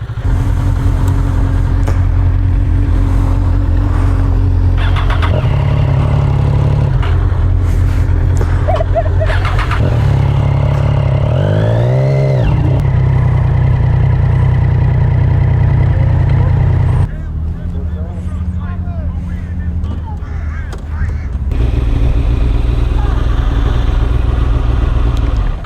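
A motorcycle engine runs loudly nearby, idling with a low steady drone and rising in a couple of revs, while people talk over it; the engine noise drops to a quieter level toward the end.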